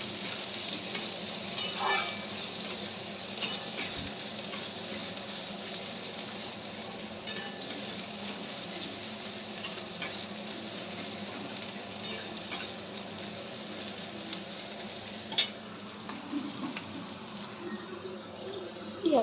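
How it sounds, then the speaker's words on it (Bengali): Onion frying in a pan gives a soft, steady sizzle while a utensil scrapes and stirs it, with intermittent clicks of metal against the pan and no talking. "পেঁয়াজটা একটু লাল করে ভেজে নেব।"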